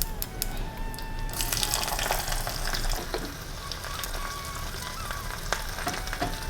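Mustard seeds, broken dried red chillies and shallots sizzle in hot coconut oil as a tempering, a dense close crackle with sharp pops of seeds spluttering, growing busier once the shallots go in.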